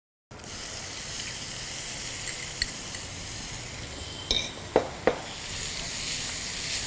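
Hing and finely minced onions hit hot oil in a pan for a dal tadka, setting off a steady hissing sizzle with a few sharp spatula clicks near the end. No one speaks.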